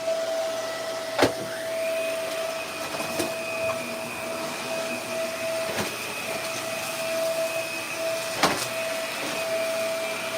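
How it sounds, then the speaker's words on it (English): A vacuum cleaner runs steadily through the whole stretch, a constant whine with a sustained tone, broken by a few sharp knocks or clunks. "this vacuum is so dumb."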